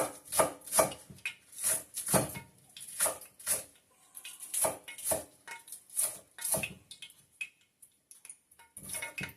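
Scallions being chopped with a knife on a board, bursts of quick rhythmic chops with short pauses between them, close and clear, no talking.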